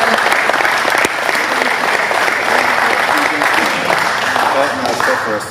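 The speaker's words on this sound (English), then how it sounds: "let's give them a round of applause" A crowd gives a loud, sustained round of applause, dense clapping filling the room steadily with a few voices talking through it near the end.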